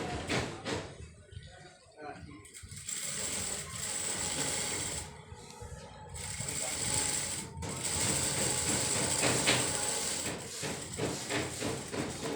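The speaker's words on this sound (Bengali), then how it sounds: "এখানে আমি যে ডাবল সেলাই এক পার্ট দিচ্ছি" Sewing machine running a double seam on a round maxi dress, a fast close mechanical whirring that runs in bursts with brief pauses between stitching passes.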